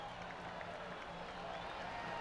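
Crowd noise in the golf game PGA TOUR 2K23 following a good shot, a faint, steady wash of applause and cheering from a distant gallery.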